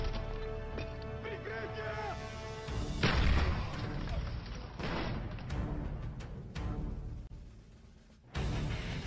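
A cooked grenade explodes in a Search and Destroy match of the video game Black Ops 1, a sudden heavy boom partway through amid game noise, with voices talking over it.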